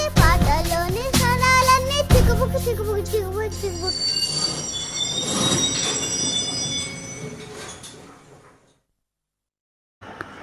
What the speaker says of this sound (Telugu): రైలు బండి